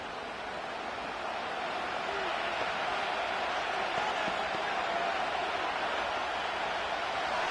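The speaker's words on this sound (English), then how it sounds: "This crowd doing everything they can before 3rd and goal." Stadium crowd at an NFL game between the Lions and 49ers roars in a dense, steady wash of noise before a 3rd and goal play, loud and unbroken throughout.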